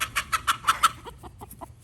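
Backyard chickens cluck close by in a quick string of sharp, evenly spaced calls that grow softer and more clipped toward the end.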